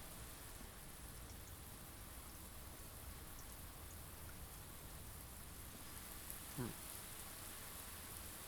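A steady hiss of rain fills the greenhouse room in the video game Blue Prince, constant and soft, with one brief swooping tone near the end.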